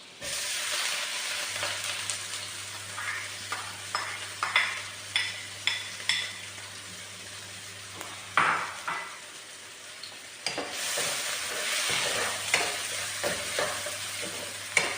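Sliced onions fry in butter in a pan, a steady sizzle broken by repeated rhythmic scrapes and stirs of a spoon, with a short pause near the end before the sizzling resumes.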